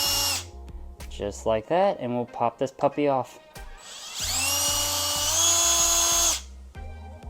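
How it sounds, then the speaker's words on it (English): A power drill on a low setting unscrews screws from an AquaticLife T5 Hybrid aquarium light fixture. It starts with several short pulsed whirs and then runs in one longer steady whine, close by, while someone talks between bursts. "I have a drill and I have it on one of the lowest settings"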